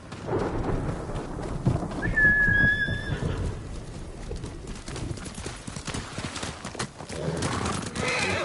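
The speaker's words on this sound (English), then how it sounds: "Horse, Kage." Hooves clop steadily while a horse in Ghost of Tsushima gives a short whinny, set against a rumbling, rainy background like a stormy outdoor scene.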